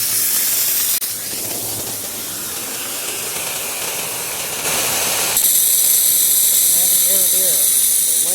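Compressed air blasts through buried inground sprinkler pipes during winterizing, a loud steady hiss and spray that surges abruptly stronger partway through, with faint whistling tones near the end.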